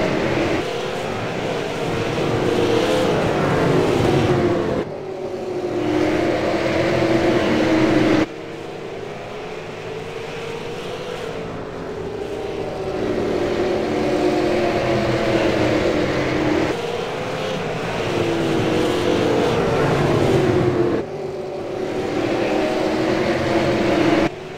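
Race cars circle a track, their engines roaring loudly and continuously with rising and falling passes and sharp cuts in level as cars sweep by, heard without talk.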